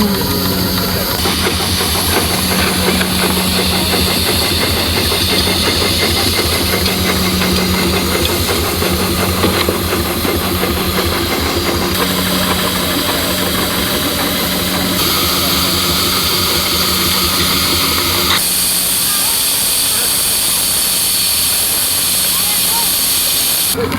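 Preserved steam engine at Bressingham running after its expansion reversing lever is moved, a loud steady rhythmic chuffing with a constant hiss and mechanical clatter that changes character partway through, with no talk over it.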